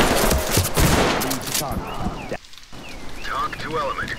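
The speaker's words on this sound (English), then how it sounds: "They shoot at us, we shoot back at them." Gunfire in a Ready or Not shootout, with dense bursts of shots and rattling fire over the first second and a half, then scattered echoing cracks and tense radio-like chatter as voices speak over the action.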